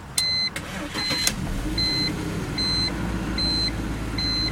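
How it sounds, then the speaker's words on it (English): A 2002 BMW 325 CSI engine cranks and starts, settling into a low, steady idle, while a high electronic warning chime repeats at regular intervals throughout. "This is a 2002 BMW 325 CSI. I'm about to start the engine."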